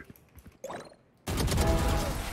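Gunfire in the video game Valorant breaks a near-silent stretch with a sudden, loud volley of rapid shots that runs on dense and sustained to the end.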